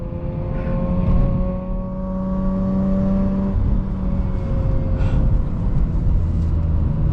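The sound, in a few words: Mazda RX-8 car accelerating on new wheels and tires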